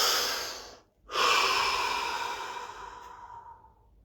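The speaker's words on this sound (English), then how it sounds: "Here we go. Deep breath." A single deep breath during a guided breathing practice: a long, airy inhale, a brief pause, then a slow exhale fading away, close and alone with no talk.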